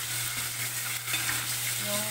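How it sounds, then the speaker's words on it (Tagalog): Meat sautés in a hot pan for a water spinach dish with black beans and oyster sauce, a dense, steady sizzle with faint stirring scrapes, close and continuous. "Gisa natin hanggang mag-brown ng konti."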